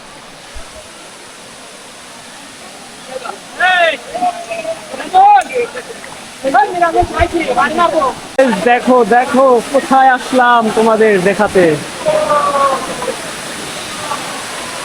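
A waterfall in Chattogram, Bangladesh, rushes steadily in the background while a person talks loudly close by over the constant water noise.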